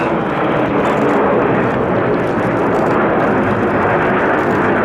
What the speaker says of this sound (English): Going upside down now, all 9 aircraft together in the shape of an aircraft, which is Spitfire